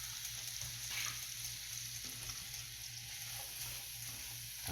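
Peppers and onions cook on a hot grill, giving a steady, even sizzle throughout with no voices.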